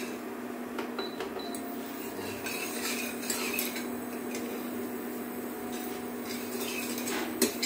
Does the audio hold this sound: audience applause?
no